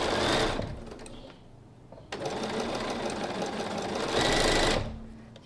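A sewing machine chain pieces quilt block pieces in close, fast runs of stitching, pausing briefly between bursts.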